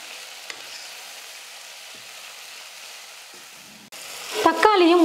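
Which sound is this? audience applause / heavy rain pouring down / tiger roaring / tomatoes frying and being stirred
tomatoes frying and being stirred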